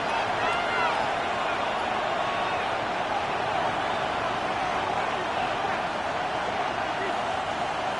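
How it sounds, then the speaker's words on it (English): Loud stadium crowd at a college football game, a steady roaring wall of cheering and hubbub that never lets up, with a commentator's voice partly buried underneath. "The noise very loud from the crowd"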